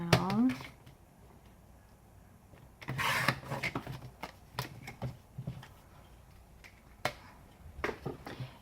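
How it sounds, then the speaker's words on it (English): Card paper for a handmade Easter long card being trimmed, heard as close, soft slicing and rubbing strokes with small clicks and taps, in quiet bursts through the stretch with brief pauses. "Then I'll trim that down"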